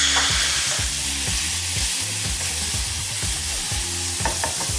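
Chicken breast fries in a pan for mango chicken curry, a constant sizzle under rhythmic stirring scrapes and knocks of a utensil against the pan, close and busy, with no voices.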